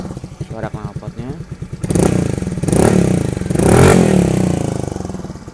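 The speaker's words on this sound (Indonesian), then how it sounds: "Suara knalpotnya." Suzuki Address scooter exhaust, a putting idle that rises into three revving swells, loud and close, with the engine rumble climbing and falling each time.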